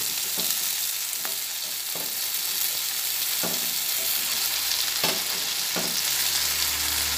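Soft tomato and bread pieces sizzle in a hot pan for bread upma, with a steady frying hiss and periodic scrapes and stirs of a spatula against the pan.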